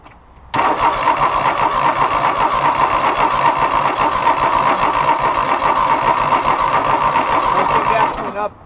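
A Cub Cadet 3000 Series lawn tractor engine cranking over, a loud, steady, rapid churning that starts abruptly, runs for about eight seconds and then cuts off, heard close by.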